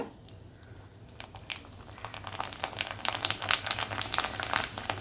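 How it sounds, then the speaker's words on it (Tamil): Dried vathal frying in a little hot oil, a soft crackling patter that builds from quiet to a steady busy sizzle of small pops close by. "இது மாதிரி வத்தல் வந்து கொஞ்சமான ஆயிலில் பொரித்து எடுத்துக்கோங்க"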